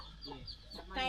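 Chickens cluck in short, soft bursts nearby, scattered across a brief moment in a rural Thai village, with a louder rustle or cluck at the end.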